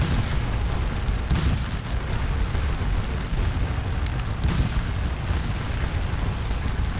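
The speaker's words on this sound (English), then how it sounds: "our guns are firing again" Artillery guns in the Napoleonic battle game Scourge of War Waterloo fire amid a constant rumbling battle din, with heavy low booms swelling now and then over a dense, unbroken roar and no talking.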